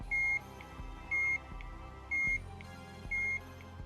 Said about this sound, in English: Plugging it into a powered-on Game Boy caused the Workboy to emit a fairly loud beep out of the speaker on its underside.